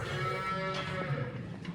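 During calving season, a cow among cows and calves in a barn lets out one close, drawn-out moo with a clear tone that fades within about two seconds.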